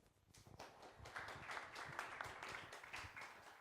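An audience at an evening venture capital panel event applauds the sponsors, with a swell of many hands clapping that builds quickly and carries on steadily, fairly faint and distant.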